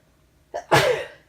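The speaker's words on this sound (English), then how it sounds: "I'm going to sneeze." A single close sneeze from an adult indoors, a short inhale followed by one sharp burst, with no talking around it.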